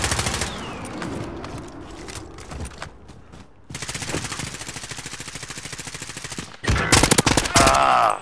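Automatic gunfire crackles through a video game shootout in a gas-zone battle royale match, with sustained bursts at first, a brief lull, then a dense volley of rapid shots near the end, loud and close.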